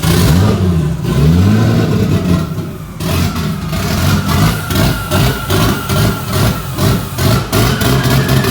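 A Toyota 2JZ-GTE engine, freshly rebuilt with new valve seals and timing and still missing its clutch line, runs loud and close, idling roughly and then revving in repeated throttle blips, with no talk over it.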